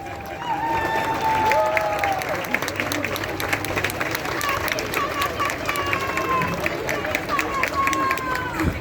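A crowd of guests at a Canadian citizenship ceremony applauds and cheers steadily, clapping and voices blending into a dense, continuous wash of sound for several seconds.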